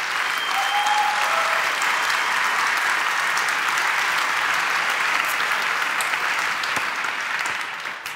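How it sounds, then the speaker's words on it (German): An audience at the re:publica 2022 conference breaks into loud, sustained applause, a thick even roar of clapping that holds for about eight seconds before easing slightly at the end. "dann dafür einen großen Applaus jetzt gleich vorweg."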